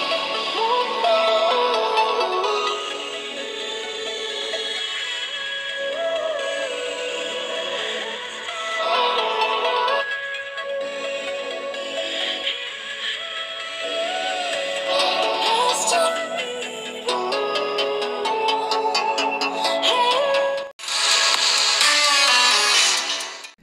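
Music playing through the stereo speakers of a Sharp Aquos Sense4 Plus phone, a steady melodic song with vocals and a modest bass, continuous at moderate volume with a brief break near the end.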